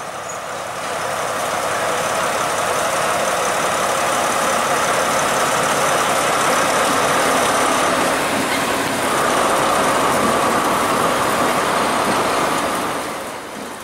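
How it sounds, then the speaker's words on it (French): A Train Jaune special convoy hauling trailer Nord 20039 on three wagons sets off, giving a loud, steady close engine rumble that holds and swells for several seconds, then eases slightly at the end. "Le convoi spécial démarre, prêt à aller se mettre en place de l'autre côté."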